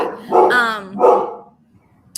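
Dogs barking at an arriving Amazon delivery, a couple of loud, close, drawn-out barks in quick succession before a brief quieter pause, heard on their own.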